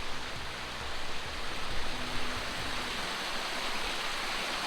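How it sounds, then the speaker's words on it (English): A small waterfall beside a wooded nature trail at Bob and Crystal Rilee Park on Parrett Mountain near Newberg, Oregon, gives a steady, even rush of falling water, close and continuous, with no voices. "and then there's a waterfall."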